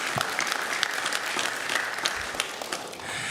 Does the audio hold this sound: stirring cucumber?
no